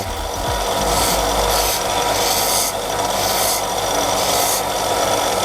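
A sanding machine works a piece of wood, used on curved sections on a band-saw-style tool with a sanding belt. It gives a steady, continuous rasping scrape with no pauses.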